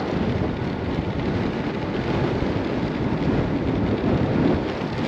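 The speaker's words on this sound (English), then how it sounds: "Hear that wind? It's awful." Strong wind roars across the microphone while a cyclist rides downhill into a headwind, a loud, steady, broadband rush with no break.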